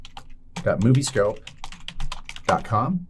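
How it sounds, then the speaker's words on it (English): Keys clatter on a computer keyboard as a web address is typed, with a voice speaking over much of the tapping at close range. "Place your mouse cursor in the address bar and type in www.google.com"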